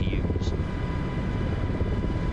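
An MH-60 helicopter in the Miltech video game flies with a steady, loud rotor and engine drone throughout, carrying a brief faint tone near the start.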